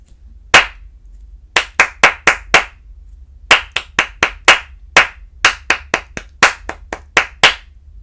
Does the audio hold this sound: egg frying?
no